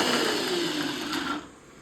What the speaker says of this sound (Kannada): ಈಗ ನೋಡಿ ರುಬ್ಕೊಂಡು ಬರ್ತೀನಿ ನಾನು.